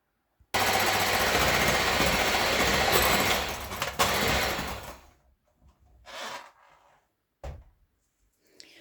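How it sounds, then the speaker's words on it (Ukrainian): Egg whites with a pinch of salt whipped to a clear foam for a milk-based Asian sponge cake, a loud, steady, close mechanical whirring for several seconds that cuts off, followed by a few brief bursts. "Тим часом білки з дрібкою солі збиваємо до прозорої піни."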